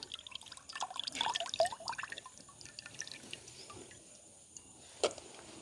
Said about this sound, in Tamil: இந்த பருப்புக்கு வந்து நாங்கள் கொஞ்சமாக தண்ணி இல்லாமலுக்கு வடிச்செடுப்பேன்